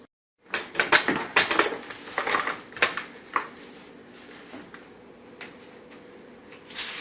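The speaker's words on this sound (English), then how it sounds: "I need a plastic bowl, I think." Dishes clatter as a plastic bowl is pulled out from among them, a quick burst of close clinks and knocks that tapers off into a few scattered taps and quiet room sound.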